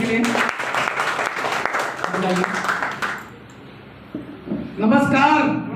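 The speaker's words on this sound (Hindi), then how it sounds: "एक बार जोरदार तालियों से जितेंद्र सर के लिए।" Audience clapping at an indoor self-awareness program for a guest, a burst of applause that fades out midway, followed by someone speaking.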